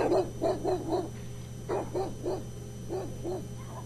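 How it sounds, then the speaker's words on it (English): Dogs barking in the background of a phone call, heard as three short bursts of repeated yappy barks, somewhat muffled and moderately distant, over a steady low hum. "I have dogs."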